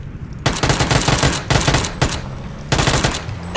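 Rapid Uzi submachine gun bursts in PlayerUnknown's Battlegrounds, several loud sustained volleys separated by brief gaps, close and dominant with no talk.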